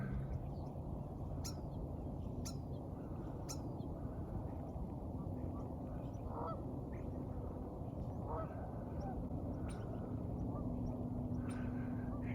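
Geese honk and ducks quack along a river upstream during a winter Christmas bird count in Lethbridge, with calls scattered and fairly distant over a steady background of flowing water or wind.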